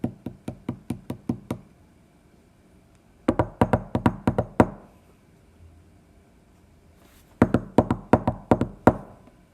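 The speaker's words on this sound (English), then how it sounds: "I am going to knock on this door and see if there's anyone else who can help us." Knuckles rap on a door in the woods in three separate bursts of about six or seven firm, evenly spaced knocks, with quiet pauses between them and no voices.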